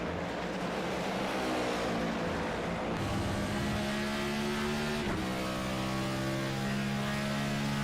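Race cars on the final lap of a three-way fight for first at Watkins Glen International, engines droning steadily and close, with a pitch shift around the middle as cars pass.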